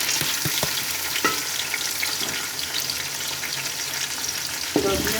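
White beans (lobia) frying in ghee, a loud continuous sizzle up close with a few sharp clinks and stirring knocks scattered through it.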